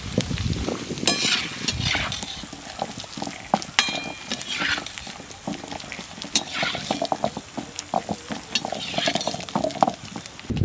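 Peanuts dry-roast in a pan, rattling with irregular scrapes and clinks as they are stirred, over a soft continuous sizzle, close by and with no speech.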